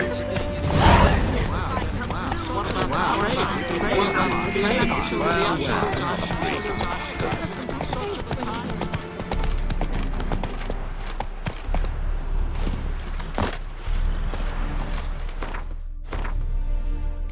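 A horse's hooves clip-clop steadily in The Witcher 3: Wild Hunt, a continuous mid-distance trot under game ambience and background music, with voices talking over it.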